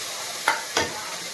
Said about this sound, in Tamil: ஒரு 4-5 ட்ரிப்பு வணக்கி விட்டால் போதும்